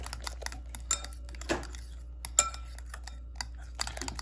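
A whisk or utensil clinks against a bowl while banana bread batter is mixed, with irregular light taps and scrapes and one brief louder swish.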